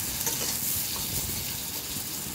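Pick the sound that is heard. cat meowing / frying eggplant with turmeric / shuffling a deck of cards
frying eggplant with turmeric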